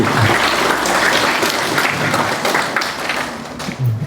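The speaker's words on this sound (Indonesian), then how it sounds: "tepuk tangan dulu" Sustained applause from a crowd, dense steady clapping filling the whole stretch, fairly loud and close, with faint voices beneath.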